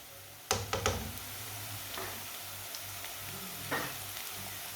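Finely chopped green chillies and garlic drop into hot oil in a pan for a winter egg dish, bursting into a sharp sizzle, then quieter frying with a few spoon knocks and stirs.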